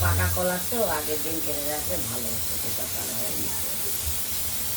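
A pressure cooker holding banana flower lets off a steady hiss of steam that runs the whole time, with a voice speaking briefly over the start.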